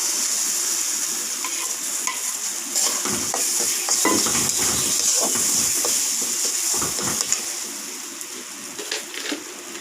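Lentils (dal) stir-fried in a hot pan, with a steady sizzling hiss and repeated scraping and clinking of a spatula against the metal pan throughout.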